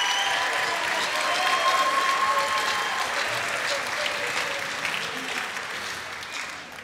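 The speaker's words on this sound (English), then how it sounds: "Let's give them a huge round of applause." An audience at a high school bands' Christmas concert claps and cheers in a sustained burst of applause that slowly tapers off.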